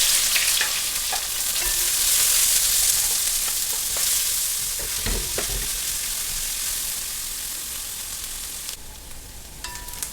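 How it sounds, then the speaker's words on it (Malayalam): Onions fry in oil in an uruli, a loud continuous crackling sizzle with brief stirring knocks and scrapes against the vessel, close up and without talk. "ഉള്ളി ഒന്ന് മൂത്ത് ഒരു ബ്രൗണിഷ് ഇച്ചിരി ഗോൾഡൻ ആയിക്കോട്ടെ."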